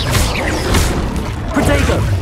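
Fiery Confringo blast spells from the Hogwarts Legacy game, several sharp booming bursts in quick succession, loud and close, over a busy background of combat noise.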